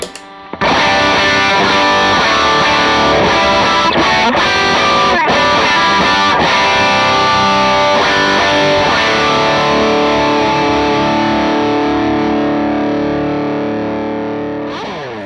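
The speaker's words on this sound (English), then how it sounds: "really diving into some of the different tones you can get with the Benson preamp" An electric guitar plays through a Benson Preamp drive pedal, ringing out loud, distorted chords strummed a few times and then left to sustain and slowly fade.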